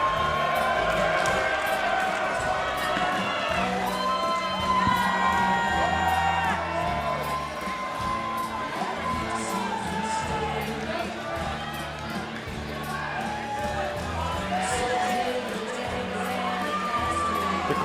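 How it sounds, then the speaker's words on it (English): A wrestling-show crowd cheers, shouts and whoops continuously in a large hall, with layered voices rising and falling over a rumbling, echoing background. "Yeah, I see one person cheering for Hobo Hank."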